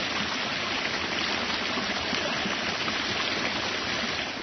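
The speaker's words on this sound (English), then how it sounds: "One of the newest, hottest trends in water gardening is what is known as pondless water features." Water runs steadily in a small pondless water feature in a sunny backyard garden, a continuous close, even rushing trickle with no voices.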